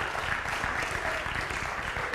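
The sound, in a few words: audience applause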